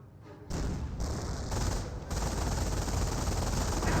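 Nebelwerfer rocket barrage in Company of Heroes, a dense continuous roar of rapid explosive bursts and rumbling fire filling the whole clip, loud and sustained with step-like surges.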